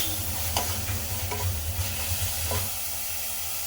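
Mint leaves sautéing in a pan for tomato rice give a steady close sizzle and hiss, with a few soft scraping stirs before the frying fades to a quieter hum.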